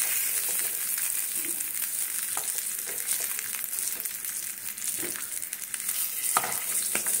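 Potatoes fry steadily in hot oil, giving a continuous close sizzle with occasional louder pops and crackles throughout, no talking.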